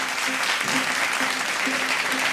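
Loud, steady audience applause fills the hall at a cooking competition grand finale, greeting the celebrity chef, with dense clapping continuous throughout and no talk over it.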